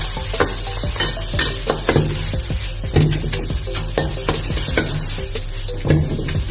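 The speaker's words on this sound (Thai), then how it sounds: "ครับนี่ก็เป็นหมูสับนะครับต้องนำมาลวนก่อนนะครับ" Minced pork stir-fries in a hot pan for Thai pad thai, a loud continuous sizzle punctuated by repeated scraping strokes of the spatula against the metal, with no talking.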